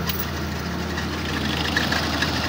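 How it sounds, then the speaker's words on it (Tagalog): Mitsubishi Adventure engine idles steadily right after starting, a continuous loud rumble with no talk. "Andar na yung makina."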